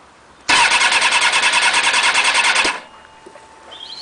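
A motorcycle starter cranks the engine for about two seconds in a steady, rapid, pulsing whir, loud and close, then cuts off without the engine catching, leaving quiet background.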